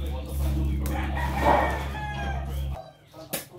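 A rooster crows in a long, drawn-out call over a steady low hum, followed by a few short rustling sounds.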